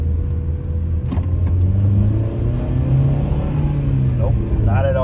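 Honda Civic engine revving hard near 3,500 RPM after a bogging fault, a loud, close, smooth rising drone with no stumble, and a voice speaking over it.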